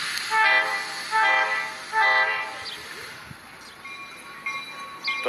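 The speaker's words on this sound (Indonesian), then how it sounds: "ada kereta api Thomas." A Thomas toy train sounds three short, evenly spaced whistle toots, then runs on with quieter clicks and rattles in an outdoor play setting.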